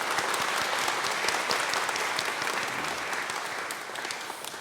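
A church congregation claps steadily in warm, sustained applause that holds at an even level and fades slightly toward the end.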